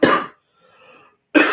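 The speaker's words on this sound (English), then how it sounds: "let me cough." Two sharp, close coughs, one at the start and one at the end, separated by a brief soft breath, with no talk.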